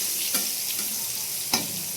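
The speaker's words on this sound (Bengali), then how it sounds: "আর এই পটলটা ভাজছি।" Pointed gourd (potol) frying in oil in a home kitchen, a steady close sizzle broken by two sharp stirring scrapes, with no one talking.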